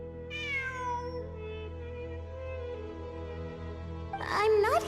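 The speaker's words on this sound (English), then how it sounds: "It really is a cat." A cat meows in ruins at night, with drawn-out rising and falling cries near the start and again at the end over a steady low hum.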